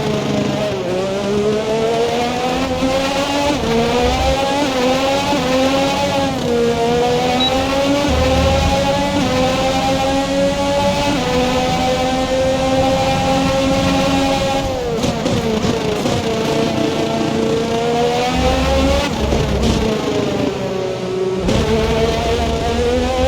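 A Formula 1 car engine from the racing game F1 21 holds a loud, steady high-pitched whine for the whole stretch, its pitch climbing and dropping through gear changes with a few short lifts off the throttle.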